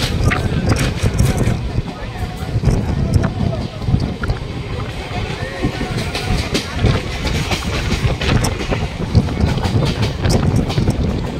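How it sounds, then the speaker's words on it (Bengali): A MEMU passenger train leaving the station and gathering speed: a loud, continuous rumble and rattle of wheels and carriages with wind buffeting, heard from on board, with people talking underneath. "ট্রেন ছেড়ে দিয়েছে"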